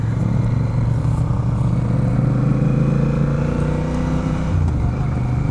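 A Honda Rebel 1100 motorcycle engine drones loud and steady while being ridden, a smooth low harmonic hum with a slight dip in pitch near the end.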